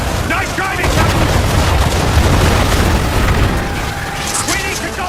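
A mortar shell bursts in the Assassin's Creed III Remastered video game, with a deep rumbling boom and sustained low roar of battle noise while a character shouts over it.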